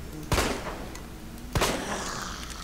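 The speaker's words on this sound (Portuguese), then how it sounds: "o tiro passando por dentro da cabeça dela" Two sharp, loud gunshots ring out about a second apart in Resident Evil 2 Remake during Claire Redfield's gameplay. Each shot cracks close by and then fades into a short echo.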